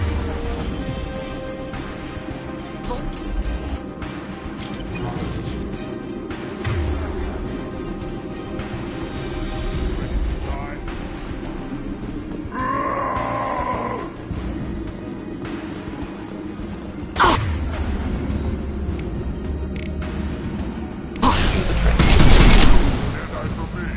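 Sniper gunfire and explosions in the sci-fi shooter Mass Effect 2, with a sustained rumble of battle. Sharp isolated cracks ring out, and a loud burst comes near the end, while characters speak in the game.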